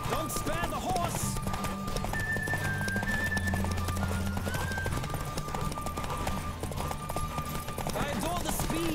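Rhythmic hoofbeats of a racing horse in The Witcher 3 carry on throughout, mixed under game music and intermittent voices, fairly loud and close.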